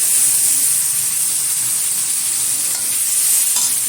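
Ground spice paste of cumin, ginger and chili with turmeric and a chopped tomato sizzles loudly in a pan for a prawn and potato curry, with steady close-up frying and occasional stirring scrapes.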